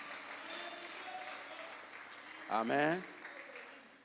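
Church congregation applauding and acclaiming during a worship service, a low, steady wash of clapping and crowd noise with a single voice rising briefly near the end.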